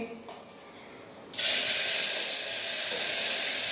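Chopped tomato and chili pieces hit hot oil seasoned with asafoetida, bursting into a loud, sudden, sustained sizzling hiss up close after quieter moments with faint talk.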